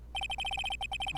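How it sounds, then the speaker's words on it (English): Repeated electronic cell phone ring tone from the video game Phoenix Wright: Ace Attorney, a fast, even run of bright chirping beeps sounding clearly on its own with no voices. "All of a sudden, the phone began to ring."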